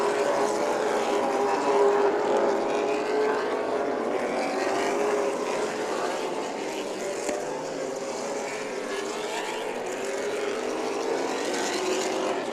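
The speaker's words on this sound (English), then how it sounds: "Price chasing down the 38 machine of Peterson. Ahead of them is White, who's going through lap traffic" Late model race cars roar around Orange Show Speedway during a 100-lap main event, a dense, steady wash of engine noise that stays loud without a break.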